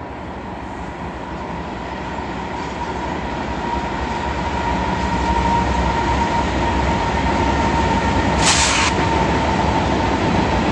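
A BNSF freight train led by Dash 9 diesel locomotives rolls past close by in eastern Washington with a loud, continuous rumble of engines and clattering wagons, building slightly in intensity.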